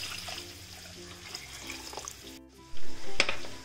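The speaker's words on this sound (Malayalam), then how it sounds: "ഇതിലേക്ക് ഞാൻ വെള്ളം ഒഴിച്ചു കൊടുക്കാം." Water poured from a glass into a pot for ghee rice in a home kitchen: a soft, brief splashing pour over faint background noise, followed by a couple of louder bumps near the end.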